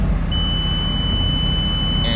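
An iDig XD610 2D excavator grade control kit emits a steady, unbroken high-pitched tone while the bucket sits at grade, heard over a loud, constant engine rumble.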